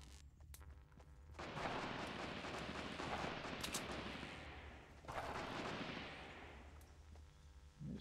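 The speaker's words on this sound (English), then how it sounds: "There's some shooting going on over there." Distant gunfire in Fortnite Battle Royale, a sustained rumbling volley of shots that swells, fades, and returns in a second burst, heard far off and alone.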